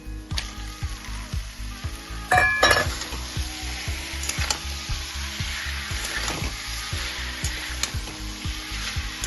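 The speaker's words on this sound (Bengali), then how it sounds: "এবারে এটাকে আবার একটু ভাজা ভাজা করে নেব" Taro stems with coconut fry in oil with steady sizzling, with scraping stirs and a few clinks of a utensil against metal, close by and continuous.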